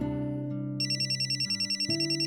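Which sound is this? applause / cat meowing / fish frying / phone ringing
phone ringing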